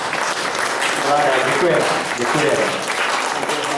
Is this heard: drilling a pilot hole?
no